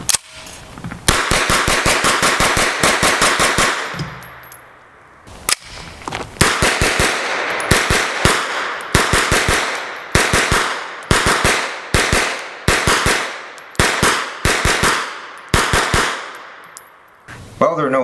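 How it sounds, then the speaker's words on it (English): A semi-automatic CZ Scorpion EVO 3 S1 carbine fitted with an aluminum handguard fires outdoors in rapid strings of sharp, loud gunshots, grouped bursts of several rounds separated by brief pauses, with a short quiet gap near the middle. "go out and take some shots"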